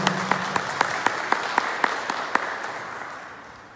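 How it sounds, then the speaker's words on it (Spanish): A short burst of scattered clapping from a small group at a Sunday Mass, individual claps distinct and rhythmic at first, then fading out. "Un aplauso para él por su vida."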